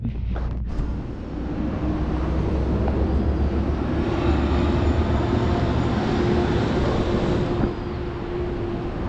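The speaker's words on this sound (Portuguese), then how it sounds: "Olha o metrô." A metro train in Buenos Aires rumbles past, a loud sustained roar with a steady whine running through it.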